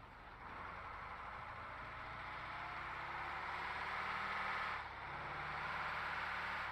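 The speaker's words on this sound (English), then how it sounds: "Oh, I do love the sound of this engine" A truck engine in a driving game idles steadily with a low, even rumble that holds at a constant level, briefly dipping before settling again.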